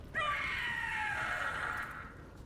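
The Gloomhowler monster in Dragon Age: The Veilguard lets out a single long, wavering shriek that rises sharply and slowly fades, loud and close with no talk over it.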